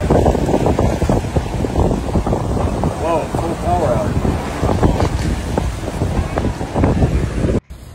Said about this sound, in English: winds appear to be blowing at 50 to 60 miles per hour